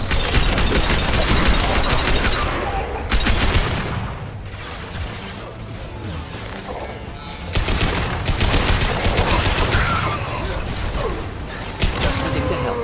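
Heavy gunfire during combat in Mass Effect Legendary Edition: loud, continuous automatic weapon bursts with brief gaps, near and dense, with mechanical clatter and occasional booms woven through.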